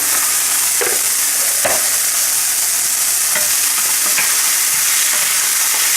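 Chicken and onions frying hard in a pan for curry, a loud continuous hiss and crackle of sizzling fat with occasional scrapes and stirring knocks, no voices.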